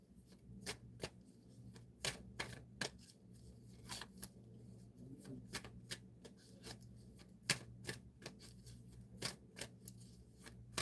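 Tarot-style reading cards riffled and shuffled by hand in a quiet room, a run of sharp papery snaps and flutters at an uneven rhythm, close and fairly soft, with no talking.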